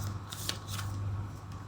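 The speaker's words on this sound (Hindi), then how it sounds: "काफ़ी सारे कार्ड्स गिर रहे हैं" Tarot cards being shuffled and dropping, a brief, soft riffling flutter with a few light slaps, close by over a steady low hum.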